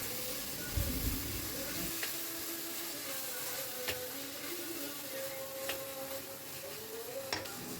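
Chopped tomatoes go into a pan of simmering mutton salna, giving a soft, steady sizzle and hiss with a few light stirring clicks, close by and fairly quiet, with no talking.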